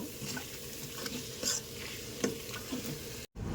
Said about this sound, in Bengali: এখানে ধনিয়া দিলাম, ঝাল দিলাম, হলুদ দিলাম আর জিরে দিলাম। এটা ভালো করে নেড়ে নেব।